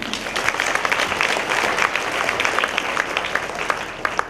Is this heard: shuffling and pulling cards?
no